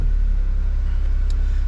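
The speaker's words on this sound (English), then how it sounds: "So let's get the car started." A Toyota GR Yaris 1.5-litre three-cylinder engine starts and idles with a steady low rumble, running smoothly and close by with no voices.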